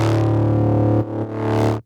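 A loud sustained synth bass note plays plainly without effects, briefly dipping before resuming and ending abruptly.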